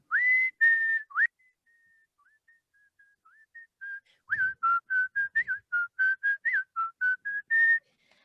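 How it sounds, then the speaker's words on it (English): A person whistles a tune from Kill Bill while feeding birds: a long held opening phrase, a quieter sliding middle, then a quick run of short, clear, evenly spaced notes, close and alone with no talk. "I whistle the song from Kill Bill"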